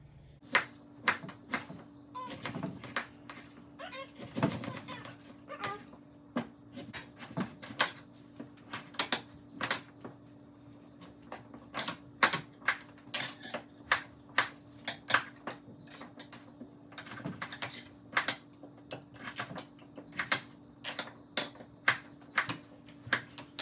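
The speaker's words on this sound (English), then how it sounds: "I will start with the sweet potatoes. You cut it into half-inch cubes." Sweet potatoes being cut into cubes with a knife on a board, a long run of sharp chopping taps in uneven bursts, close and crisp over a quiet steady hum, with no talk.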